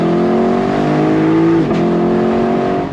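A 2024 Lexus LC500 Bespoke Edition's V8 engine revs on throttle through a turn, a loud, steady, rising tone with a brief dip at a shift, and no talk.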